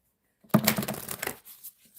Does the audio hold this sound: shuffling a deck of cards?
yes